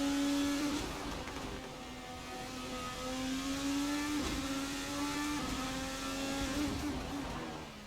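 A race car circles the Circuit of the Americas track in an online racing league, its engine whining loud and close, shifting pitch as it accelerates and brakes through corners, with no talk over it.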